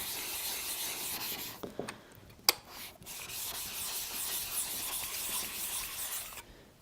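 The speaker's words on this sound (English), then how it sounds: "This is a diamond plate that we run across here to make sure that the stones are" A diamond flattening plate rubs back and forth across sharpening water stones in a woodworking shop, making gritty scraping strokes with a few sharp knocks and short pauses in between.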